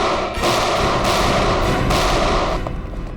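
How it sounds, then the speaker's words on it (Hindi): Gunshots ring out at a firing range as a few loud, booming reports with heavy thuds. They come in close succession with no talk. "Firing range."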